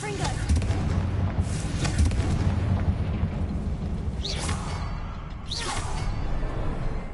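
A Confringo blasting spell cast in the Hogwarts Legacy game, a sustained whooshing roar over a rumbling low bed, with two rising swishes near the end.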